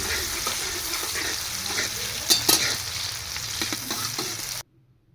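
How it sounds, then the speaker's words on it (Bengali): Chopped onions frying in mustard oil with cardamom, cinnamon and cloves, a steady close sizzle with occasional stirring scrapes and a couple of louder spatters, cutting off abruptly near the end. "ডালচিনি এবং লবঙ্গ দিচ্ছি ফোড়নে কেটে রাখা পেঁয়াজ দিচ্ছি লাল লাল করে একটু ভেজে নেব"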